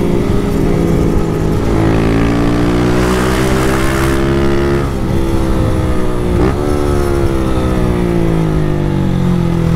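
A Honda Start 160 motorcycle with a sport exhaust revs hard and shifts up through the gears, its loud close engine note climbing repeatedly in pitch with brief dips at each gear change, no voices.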